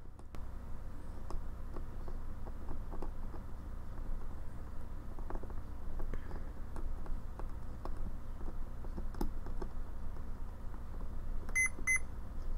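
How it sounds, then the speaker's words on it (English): A multimeter's continuity beep sounds while probing the pins of an F3 or F4 flight-controller processor: two short, sharp electronic tones come right at the end, over a steady low background hum and scattered faint clicks. "Oh, and there we got a beep right there."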